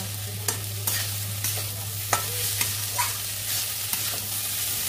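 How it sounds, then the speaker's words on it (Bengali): A spoon stirs banana flower curry with turmeric in a pan over low heat, with several distinct scraping strokes over a soft sizzle and a steady background hum. "এবার আবার পুরো ভালো করে মেশাবো সবটা"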